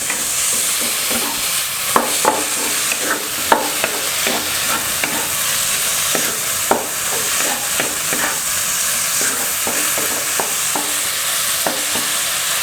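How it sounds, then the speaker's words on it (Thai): Minced pork stir-fried in a pan for larb moo, a continuous sizzle with repeated scraping stirs and sharp clicks of the utensil against the pan, close and fairly loud. "เนื้อหมูบดหรือเนื้อหมูสับที่เรามาสับนะครับ ถ้าเกิดเราลวนไปเรื่อยๆเนี่ย มันจะมีน้ำออกมาเรื่อยๆนะครับ"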